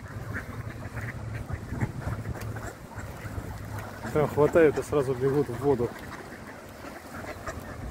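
Mallard ducks quack in a short, lively burst near the water while someone talks throughout, with a low engine hum underneath.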